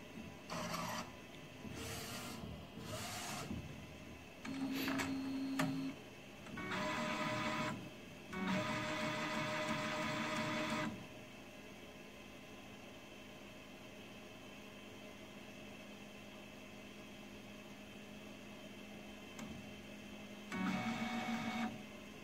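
A Focus Vocano-Jet Pro UV flatbed phone case printer runs in several bursts of mechanical whirring and carriage passes, with a steady machine hum filling the gaps between them.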